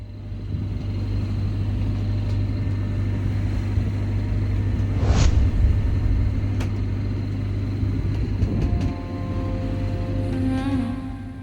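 A sailboat motors under engine power on a windless early morning on the Maroni River in French Guiana. The inboard engine gives a steady, low rumble that continues throughout, with faint scattered clicks and knocks on board.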